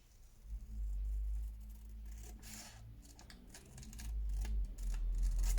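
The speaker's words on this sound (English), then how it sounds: "Scissors, I think." Scissors trim the edge of a foxed old photograph for a graduation journal page, giving a few soft, close snipping and rubbing sounds over a low background hum, with no voices.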